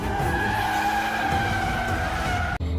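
Car tires skidding and squealing as the car turns around quickly, a continuous loud screech with engine roar that cuts off abruptly near the end.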